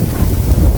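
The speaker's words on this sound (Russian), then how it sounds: "Слушайте, какой ветер холодный." Cold wind buffets the microphone outdoors in Odesa region, a steady low rumbling roar that fills the whole moment with no voices.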